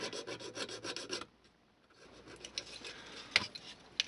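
Rasping file strokes work an undersized notch in a cheap plastic model railroad freight car, a quick run of close scraping, a pause, then fainter intermittent rubbing with a couple of sharp ticks.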